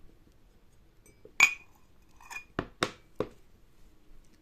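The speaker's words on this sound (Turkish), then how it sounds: "Hadi tabağımızı döküyorum bakalım tabakta neler çıkmış." Clinks of a porcelain coffee cup turned over onto its saucer for a fortune reading, a few sharp, close ceramic taps and rattles separated by short pauses, with no talking.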